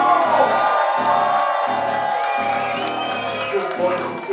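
A pub concert crowd at the Red Lion in Gravesend cheers and whoops, with loud shouts and whistles over a steady, droning band tone that pulses rhythmically underneath.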